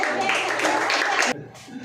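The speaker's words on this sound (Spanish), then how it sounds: "Vamos a dar un fuerte aplauso al taita." A crowd applauds at a Holy Week cultural event for taita Segundo Peralta, a burst of dense clapping lasting just over a second, then cutting off abruptly to quiet.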